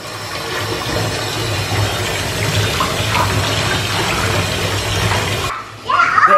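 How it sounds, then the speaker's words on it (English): Bubbling and churning water fills a home birth pool, a steady wash of bubbles running loud and close for several seconds before cutting off abruptly; a brief splash follows near the end. "let's take it easy on the bubbles"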